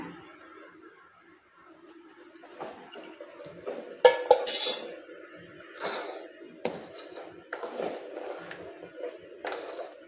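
A spoon scrapes and clinks against a pan as wheat halwa cooked with ghee is stirred, the metallic knocks coming in irregular bursts, some fairly sharp, over a soft steady background.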